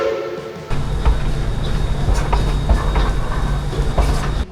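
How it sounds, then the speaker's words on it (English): Steady low rumble of a narrow gauge steam train in motion in the Colorado mountains near Silverton, with rhythmic clacking and faint squeals, heard from on board, continuous throughout. "We're on the train!"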